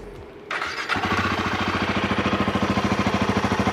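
A new Royal Enfield motorcycle fires up and settles into a loud, close idle, its exhaust thumping in a steady, even pulse with no voices.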